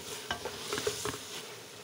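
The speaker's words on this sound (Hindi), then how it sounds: "और अब हम शिमला मिर्च और मसाले को आपस में मिक्स करेंगे" Bell peppers and spices are stirred in a pan with a few quiet scrapes and a soft sizzle underneath, faint and brief, with no one speaking.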